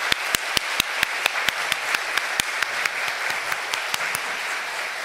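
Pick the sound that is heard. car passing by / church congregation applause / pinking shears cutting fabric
church congregation applause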